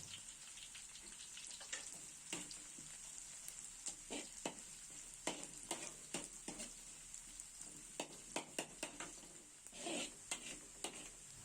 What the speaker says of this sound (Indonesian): Bawang merahnya masuk dulu. Kemudian bawang putih sambil terus diaduk-aduk sampai bawang merah,